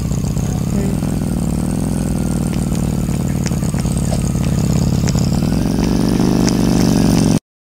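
A ski lift ride running in the Roblox Bloxburg video game gives a steady, loud mechanical hum that drones evenly for about seven seconds and then cuts off abruptly.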